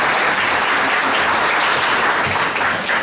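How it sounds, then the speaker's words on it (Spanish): Loud, sustained applause from a hairdressing seminar audience at a beauty school, dense and even throughout with no gaps and no voices over it. "se merece un aplauso"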